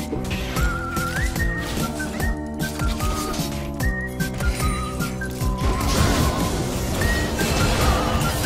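A person whistling a wandering melody of short and sustained notes over a busy, loud game soundtrack with hits and crashes.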